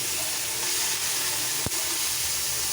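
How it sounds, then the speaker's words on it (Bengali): Prawns fry in hot oil for khichuri, a steady loud sizzle with one sharp clatter partway through. "এই তেলের মধ্যেই আমি চিংড়ি মাছগুলো দিয়ে দেবো ভাজার জন্য"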